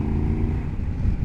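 Triumph Tiger 1200 GT Explorer motorcycle engine pulling in fifth gear on a test ride, a steady loud low-pitched drone that holds without pause for the whole stretch.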